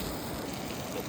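Steady rain pours down in the Daintree rainforest, a dense, even hiss that holds without a break through the whole moment.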